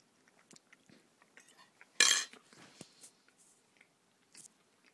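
Someone eating buttery creamed corn: a spoon clinks against a dish, followed by soft wet chewing and small mouth sounds, close and quiet.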